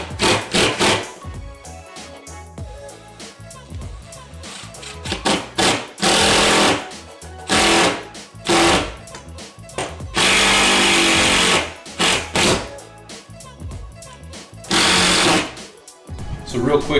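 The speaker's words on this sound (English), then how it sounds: "start screwing it into the ceiling" A power drill drives screws for a projector ceiling mount in repeated loud whirring bursts of a second or two, separated by handling noises and spoken explanation.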